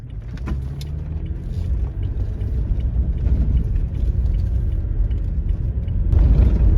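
A car drives along Highway 201 near Penticton, heading toward Kelowna, with a steady low road rumble and engine drone throughout and a brief louder swell near the end; no talking.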